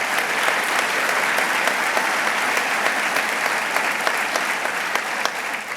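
Steady, full audience applause at a governor's economic development funding announcement, continuous and even throughout with no break.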